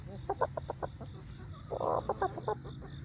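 Chickens cluck close by in a quick series of short, sharp notes, then a longer drawn-out squawk, over a steady low background hum.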